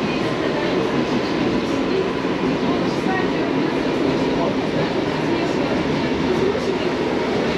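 A suburban electric train rumbles past at a distance in Lazarevskoye, near Pavlova Street, with a steady, rushing roar that fills the whole stretch, a faint rhythmic clatter beneath it.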